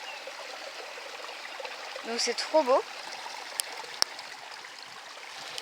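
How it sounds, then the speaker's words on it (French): A small waterfall cascades into a garden fish pond, producing a steady, soft trickling and splashing wash that continues throughout, with a person speaking briefly over it midway. "Je ne vous ai pas montré la cascade."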